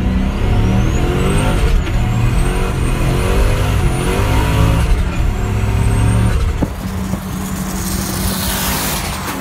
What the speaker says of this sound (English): A boy Spencer back again rolls up in his new Mustang.